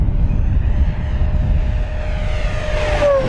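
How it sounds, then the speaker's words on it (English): An FMS Corsair 1700mm V3 RC warbird on 8S power flies past, its electric motor and propeller at high RPM giving a steady loud whine and buzz outdoors, rising slightly near the end. "you can just hear that prop really turning some RPM here"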